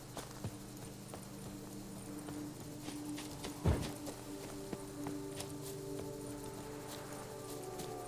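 Horse hooves clip-clop in a steady walking rhythm in The Witcher 3, moderately close, with one louder thud partway through over a low ambient bed.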